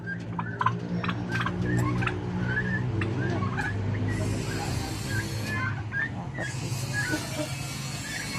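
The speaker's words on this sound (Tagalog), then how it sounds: "Manok." Chickens call from a mini farm flock, repeated clucks and gobbling-like calls overlapping continuously at close range with no talking.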